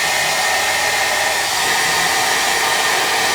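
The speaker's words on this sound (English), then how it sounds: "And then you run a hair dryer." A hair dryer blows steadily on a circuit board that has been rinsed with hot water, held as close as possible to dry it; its loud, even whoosh runs unbroken throughout with no voices.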